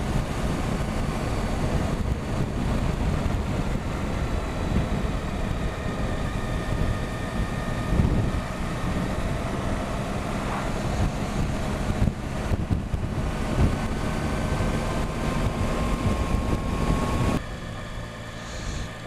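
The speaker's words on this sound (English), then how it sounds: "A bit blustery out here compared to what it was back home." Blustery wind buffets the microphone outdoors near the coast, a steady loud roar with gusty fluctuations lasting throughout, dropping slightly at the end.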